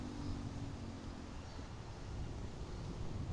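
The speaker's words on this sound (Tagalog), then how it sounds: "Ang lakas ng hangin eh." Gusty wind rumbles against the microphone outdoors while a DJI Neo 2 drone flies, a continuous low roar with a faint steady hum beneath and no talking.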